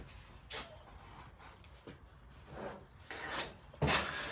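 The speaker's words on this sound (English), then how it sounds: "we're going to just put a skim coat of body filler over this" Body filler is spread as a skim coat over dents in a car body, a faint scraping and rubbing of a spreader in short irregular strokes that grow louder toward the end.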